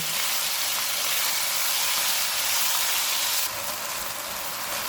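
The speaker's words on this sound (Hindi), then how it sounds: "300 ग्राम चिकन डालेंगे। चूल्हे को मीडियम रखेंगे। इसको 3 से 4 मिनट तक भूनेंगे।" Chicken pieces with ginger-garlic paste sizzling in a pan over a medium flame, a steady, dense frying hiss that holds loud throughout and eases slightly near the end, with no talk.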